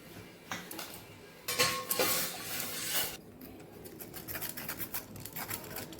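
Cornflour and cocoa powder are stirred into milk in a pot, giving quiet scraping and clinking of a utensil against the vessel, with a louder rushing stretch of mixing partway through and light taps toward the end.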